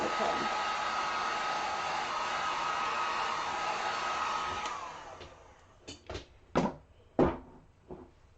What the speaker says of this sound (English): let me throw this one more time with our heat gun